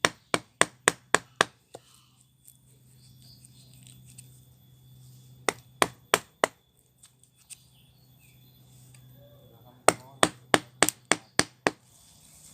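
A chisel is struck into a ficus bonsai trunk to split it, heard as bursts of sharp rapid taps in quick runs with quiet pauses between, close by and without speech.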